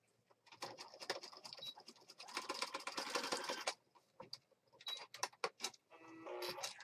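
A sewing machine stitches across the top of a paper junk journal page in bursts of rapid, close-up mechanical chatter that start and stop.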